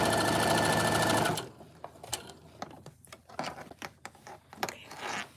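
A sewing machine stitches fabric for craft fair sewing, running in a loud steady whirring burst before stopping, followed by quieter clicks and handling noises.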